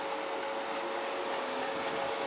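A Class 313 electric train at Stevenage station gives a steady, fairly quiet hum and rumble with a faint whine, continuous throughout and with no talk.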